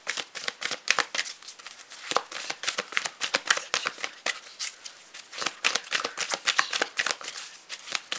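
Tarot cards being shuffled by hand make close, crisp riffling bursts in a quick, irregular rhythm, repeating steadily with no talking.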